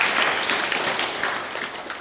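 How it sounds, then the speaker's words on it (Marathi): A crowd at a gathering at the Shri Gahininath Sansthan temple in Sarola applauds in a brief, thick wash of clapping that stays fairly loud throughout. "त्या दोघींकरता आपण टाळ्या वाजवल्या"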